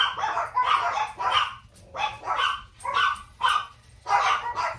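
Pet dogs bark indoors in a run of about eight sharp, fairly close barks spaced roughly half a second apart, with brief pauses between them.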